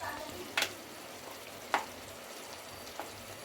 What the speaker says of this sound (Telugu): తలకాయ కూర అయితే నూనెలో మంచిగా మగ్గింది